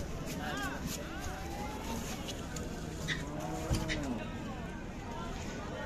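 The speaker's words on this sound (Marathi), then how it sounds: "किल्लर गाय आहे, पाहू शकता." A Khillar cow moos at a busy outdoor cattle market in Sangola, its low drawn-out calls rising faintly through constant nearby chatter and crowd noise.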